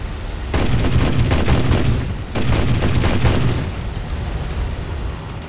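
Ju-87 Stuka's 37mm cannons firing in the War Thunder video game: a sustained loud stretch of heavy booming shots, a brief lull near the middle, then another burst fading into rumbling background noise.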